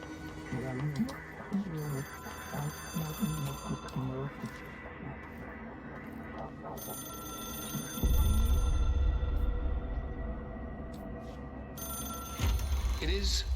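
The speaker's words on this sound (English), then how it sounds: "I can hear the phone ringing again" An in-game telephone rings in the video game Control, repeated bright electronic rings with gaps, fairly faint against a low background hum and a brief deep rumble.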